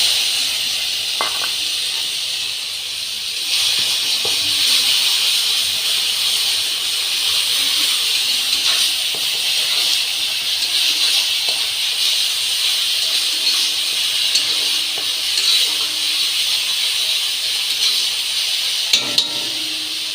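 Ground palta (pointed gourd) leaf paste frying in mustard oil with chili and five-spice seeds, a constant close hiss of sizzling oil that continues without a break and with no talking.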